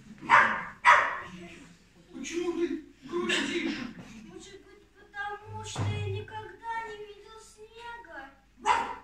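A dog barks and yips in short bursts, mixed with a voice speaking and chuckling, the sounds close and intermittent over several seconds.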